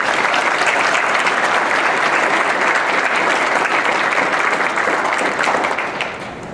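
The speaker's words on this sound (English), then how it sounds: "So let's give him a quick round of applause." Sustained applause from an audience at a public meeting on the Mahoning, a dense steady wash of many hands clapping that holds loud throughout and eases slightly at the very end.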